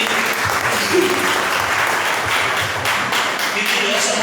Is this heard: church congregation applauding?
yes